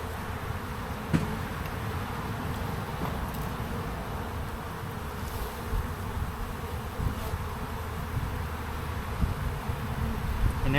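A honeybee colony hums during a spring hive inspection, a dense, steady, close buzzing that goes on without pause, with a few light knocks from handling the frames.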